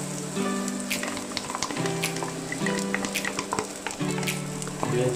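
Garlic sizzling in hot oil in a pan while cooking tuna pesto pasta, a steady crackling fry with small pops, close and continuous, under faint background hum.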